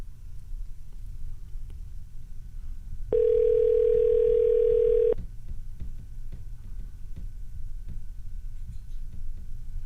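A steady telephone line tone sounds for about two seconds midway as a call connects on a radio talk show, set against a low background hum.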